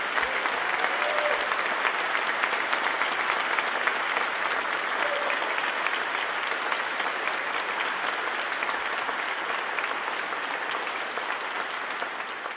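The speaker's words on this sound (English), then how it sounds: "Let's give a big round of applause for Feeding Kentucky" Sustained applause from a large crowd fills the chamber at the governor's State of the Commonwealth address, a dense, steady roar of clapping that holds evenly for about twelve seconds before easing slightly.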